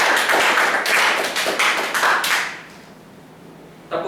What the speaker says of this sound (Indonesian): Beri tepuk tangan dulu kepada Rama.